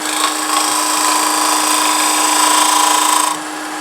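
A wooden box spinning on a lathe takes scraping cuts, giving a steady, loud, high-pitched whine with a tonal hum that runs for several seconds and then drops abruptly near the end.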